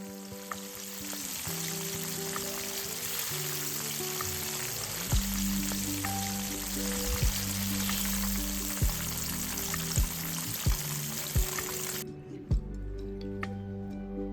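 Chicken wing pieces deep-fry in hot oil, giving a constant close sizzle with occasional soft taps and knocks. The bright hiss drops away near the end.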